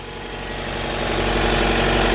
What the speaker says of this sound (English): that's the reason why the actual gas engine here is running right now